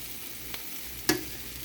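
Taco filling of peppers, onion, mushrooms and spices stirred in a hot pan, with a faint steady sizzle and a couple of short scraping clicks of the utensil, one sharper knock near the end.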